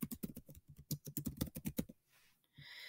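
Quick bursts of clicking keystrokes on a computer keyboard, a run of close, crisp taps for about two seconds, then a pause with a few faint clicks, no talk.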